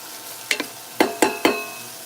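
Rice sautéing in grapeseed oil in a pan, with four or five distinct scraping stirs over a faint steady sizzle, fairly close and with no voices.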